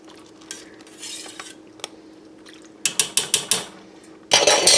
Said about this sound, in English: we're just going to stir that around a little bit